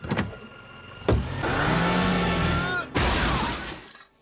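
An animated car runs a person over, heard as a sharp crash and glass shattering followed by a sustained engine roar and a second impact, loud and close with no talk.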